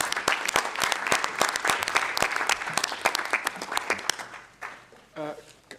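An audience applauds panelists at the close of an e-learning platforms Q&A session, with sharp, distinct claps in a loose rhythm that taper off into a brief spoken voice at the end.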